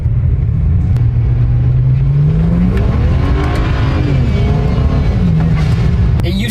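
Stock turbocharged car revving hard under heavy boost, its loud engine rising and falling in pitch with a brief blow-off valve hiss, tires spinning under the steady engine roar, close and continuous with no talking.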